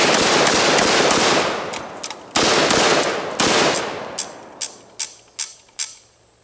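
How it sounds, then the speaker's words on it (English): A Street Sweeper shotgun firing at soda cans outdoors, loud and close: a few heavy overlapping blasts, then a run of sharper single shots spaced about half a second apart. "Next, we're gonna shoot some sodas."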